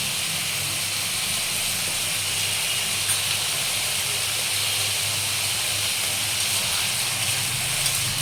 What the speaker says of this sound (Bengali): এইটা আলু পেঁয়াজটা খুব ভালো করে কষিয়ে নেব